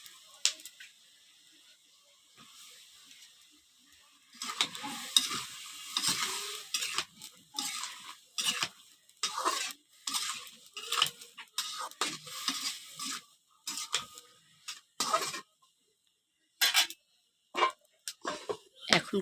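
Small eggplants stir-fry in a pan and are stirred in bursts, with sizzling and irregular scraping and clinking that stop and start. The sound is close but fairly soft, and there is no talk.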